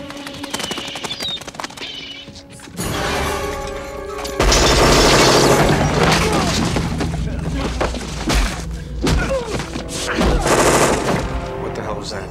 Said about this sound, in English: We got gunfire at the warehouse.